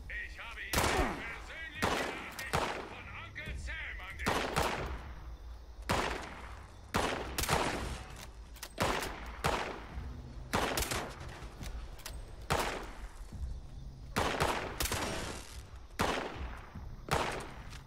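Gunfire in Fallout 76, sharp broadband shots in an irregular stream across the whole stretch, some in quick bursts, loud and close, with someone talking at moments between them.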